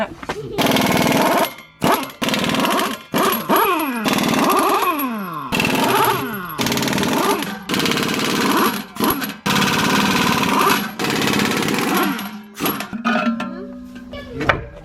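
A pneumatic impact wrench spins lug nuts off a large RV wheel in repeated loud, rattling bursts with rising and falling whirring pitch, broken by short pauses and clanks.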